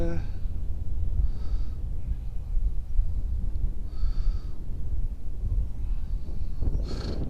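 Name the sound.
gusty wind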